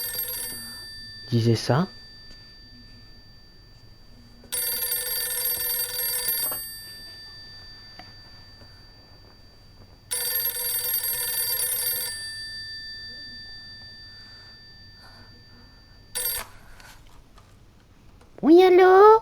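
Telephone ringing in the horror video game Silent Hill f, two long bursts of electronic bell ringing with short, sharp chimes and a few quiet speech fragments between them, then a voice answering at the end.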